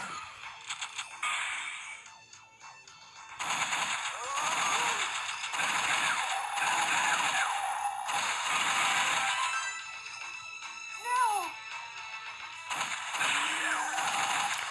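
Rapid gunfire and mechanical shooting effects from The House of the Dead arcade game, played on an emulated Sega Saturn, come in loud bursts with game music and groaning creature cries, and people talk over the action.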